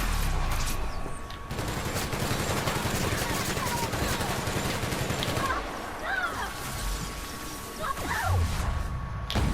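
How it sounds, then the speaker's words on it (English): Sustained automatic gunfire in The Outer Worlds video game, a dense rapid burst of shots aimed at the player that thins out into scattered game sounds toward the end. "Not all too sure what the fuck is shooting me right now"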